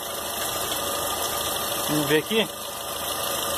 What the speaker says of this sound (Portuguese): Motor em funcionamento